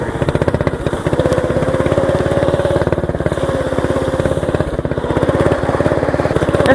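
A small Craftsman lawn tractor's engine chugs close by with a rapid, even putter and a steady throbbing rhythm, loud and continuous from start to finish.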